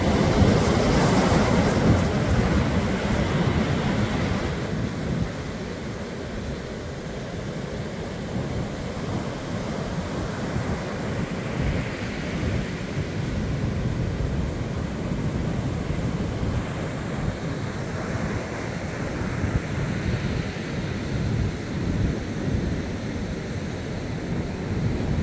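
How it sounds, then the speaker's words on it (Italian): Rough, swelling sea with heavy surf, a continuous roar of waves with wind noise on the microphone, loudest at the start and then holding steady. "Un mare che si gonfia in una maniera impressionante."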